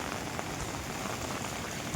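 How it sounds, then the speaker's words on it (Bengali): Steady rain patters evenly on surfaces after a hailstorm, a dense, continuous hiss with no voices or other breaks. "বৃষ্টি প্রায় কমে গেছে,"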